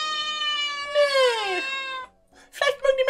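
A cat in the Minecraft video game gives two long, drawn-out plaintive meows, close and clear, with a falling pitch, followed by a short pause and then a burst of brief squeaky cries.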